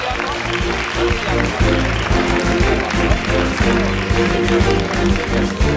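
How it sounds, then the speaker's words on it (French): Applause for a contestant at the sweet-dessert final of a children's cooking competition, heard as steady dense clapping over a loud music bed, continuous across the whole stretch. "Applaudissements pour Léandre de Salé."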